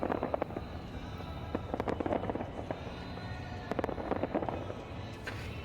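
Fireworks burst continuously near a drone light show on New Year's Eve, a dense rumbling stream of booms and crackles with sharper pops standing out, heard from a distance.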